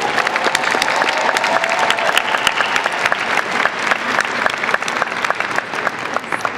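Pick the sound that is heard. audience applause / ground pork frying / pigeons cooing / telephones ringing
audience applause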